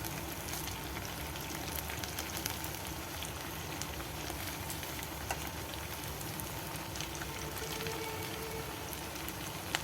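Crisp sago vada frying in hot oil over slow-medium heat, a steady fine crackling sizzle with scattered small pops throughout.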